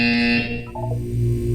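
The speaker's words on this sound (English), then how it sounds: "You will hear a buzzer." A buzzer from the video game Portal 2 sounds loudly as a steady electronic tone, shifting pitch partway through over a continuous droning game background, with no talking.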